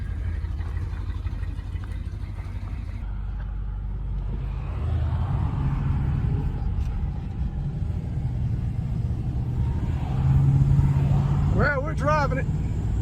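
A 1972 Plymouth stored since 2007 rolls along with a steady low engine and road rumble, its front end in need of work, while people talk inside the car over the drone.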